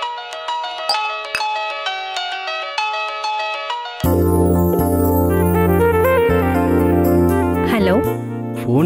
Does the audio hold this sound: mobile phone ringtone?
yes